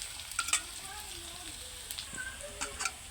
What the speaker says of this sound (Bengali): তো পেস্টটা ভাজা হয়ে আসছে